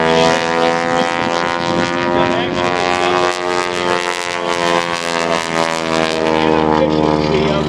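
Propeller airplane flying at the Dayton Airshow, a loud steady droning engine hum with strong harmonic tone sustained throughout, while an announcer talks over it.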